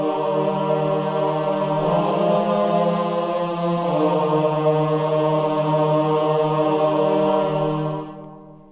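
A piano plays the slow, sustained opening section of a piece from Metal Gear Solid, notes ringing on and blending together before fading out at the end.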